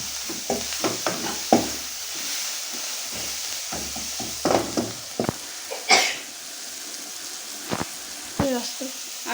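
Green chilies and onions fry in a pan, a steady low sizzle with occasional scraping stirs of a spoon, close and moderate in level, with a cough and a throat-clearing heard over it.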